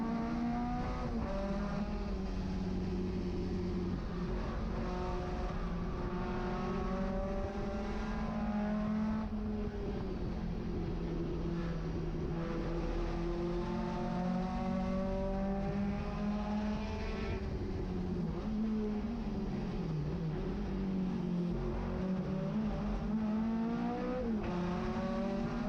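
A BMW 2002 race car in B Sedan racing at Laguna Seca runs its engine hard and steady throughout, with rising and falling harmonic tones as it shifts and pulls along the track near the corkscrew.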